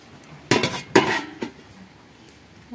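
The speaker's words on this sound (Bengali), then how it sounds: "এবার ঢাকা দিয়ে দেব।" A metal lid set onto a cooking pot of greens gives a few sharp clanks and rattles in quick succession near the start, then fades to quiet.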